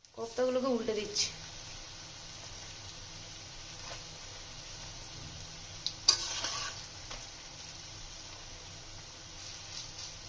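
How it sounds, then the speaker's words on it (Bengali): Soybean koftas fry in hot oil with a soft, steady sizzle, a few spoon clinks and stirring scrapes at the start and a sharper clatter midway. "কোপ্তাগুলো কিন্তু একটু কড়া করে ভেজে নিতে হবে"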